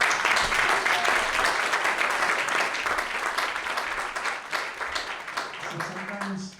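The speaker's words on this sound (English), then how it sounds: "That requires a huge round of applause." An audience at a community event gives a sustained round of applause, steady and moderately distant, slowly tapering off over several seconds.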